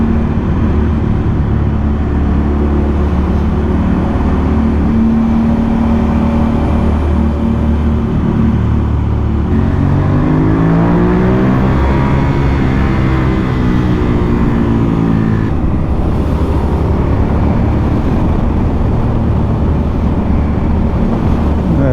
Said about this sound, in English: here we go, a beautiful BMW 1000.